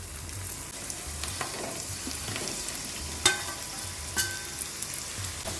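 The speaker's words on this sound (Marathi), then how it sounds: "आता परत तेल हाय फ्लेमवर गरम केलेलं आहे आणि परत हे सगळे याच्यात डबल फ्राय" Potato pieces frying a second time in oil reheated over a high flame, a steady close sizzle and crackle with a couple of sharp spatters standing out, no voices.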